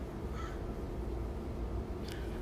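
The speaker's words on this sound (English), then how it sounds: "I believe that might be the same raven that I've been talking about." A raven gives two faint, distant caws about two seconds apart over a steady low outdoor rumble.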